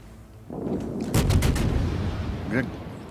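The heavy cruiser Prinz Eugen fires its naval guns in World of Warships: a rapid cluster of deep, booming shots in quick succession, loud and near, with a faint tone afterward.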